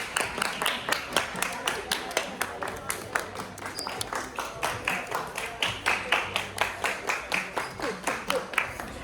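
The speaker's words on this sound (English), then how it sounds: "Everybody clap your hands." A crowd at a cruise ship party, a silent disco at sea, claps its hands in a steady, even rhythm, sharp unison claps repeating throughout with faint voices underneath.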